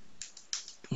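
Fast keystrokes on a computer keyboard while entering a Facebook login during a Bengali-language online tutorial, several close, light clicks in an irregular burst ending on a heavier thud.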